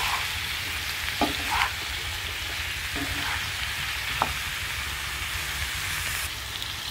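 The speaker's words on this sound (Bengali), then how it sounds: "গরুর তেলটা যত সময় বাদামি না হবে তত সময় ইনশাল্লাহ আমি এভাবে ভাজতে থাকবো, সমানে নাড়বো।" Beef fat renders in a frying pan with a steady, dense sizzle, broken by a few scraping stirs of a spatula.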